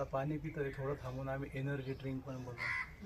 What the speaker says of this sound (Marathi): कावळा किती गोड ओरडतोय